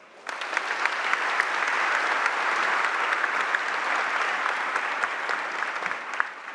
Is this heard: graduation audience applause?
yes